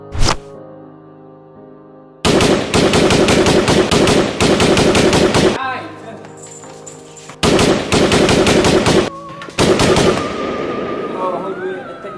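Gunfire in a short film: loud rapid machine-gun bursts in several long volleys separated by brief pauses, harsh and close.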